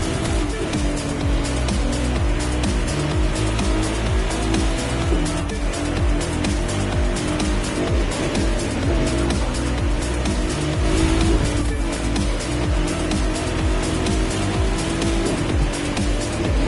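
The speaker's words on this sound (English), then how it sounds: "Those engines are going to make for a loud wake-up call if anyone's sleeping in this resort area today." Loud, continuous race car engines roar in The Crew 2 racing game, with tire squeal and passing cars layered over a dense, unbroken engine drone throughout, no talking.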